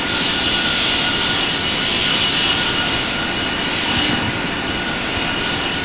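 An aircraft landing in a video game produces a loud, continuous jet-like engine roar that holds steady throughout with no speech.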